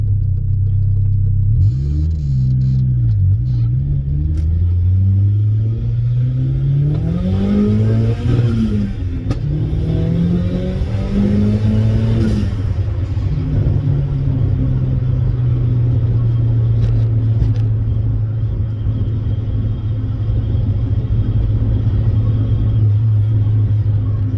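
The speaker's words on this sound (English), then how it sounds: "I'm glad I got a little bit of rev limiter in there" A turbocharged Mazda Miata with unequal-length headers revs hard, its engine pitch sweeping up and down through loud, close, rumbling pulls before settling into a sustained high drone against the rev limiter.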